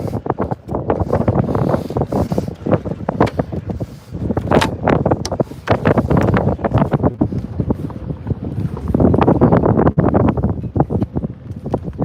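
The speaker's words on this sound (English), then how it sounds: "the wind's probably really strong" Strong outdoor wind buffeting the microphone in loud, continuous gusts that swell and ease over several seconds, with no other clear sounds through it.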